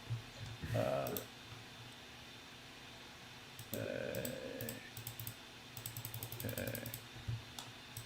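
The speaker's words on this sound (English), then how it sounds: "I hear you clicking away." Computer keyboard typing and mouse clicking during a live real estate stream, in a few sharp bursts of quick clicks and taps spread through the stretch, fairly quiet and close, with faint voices in the gaps.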